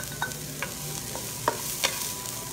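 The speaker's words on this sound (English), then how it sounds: "Onions and garlic in a frying pan. A little bit of oil." Onions, garlic and diced mushrooms fry in a little oil in a hot pan, giving a steady soft sizzle with a few sharp clicks of stirring close by and no talking.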